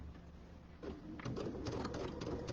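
Sewing machine stitching fabric, starting softly then running in a steady rapid rhythm close by, with no talk over it.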